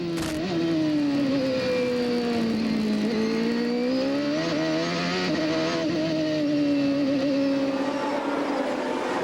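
CART Indy cars racing past at the 1995 Miami Grand Prix, a loud continuous high-revving engine whine with rising and falling pitch as cars sweep by, heard alone.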